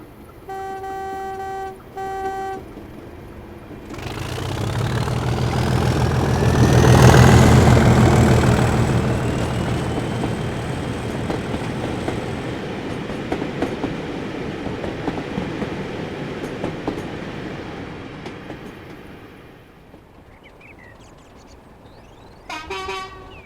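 British Rail Class 37 diesel locomotive 37798 passing on its way to Elam, a horn sounding at first, then the engine's rising rumble and wheel noise swelling loudly as it goes by, fading away before a final horn.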